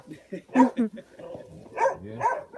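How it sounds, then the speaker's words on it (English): Dogs bark in short bursts down in a valley outdoors, a few sharp yips and barks mixed with people talking nearby. "Those animals are dogs."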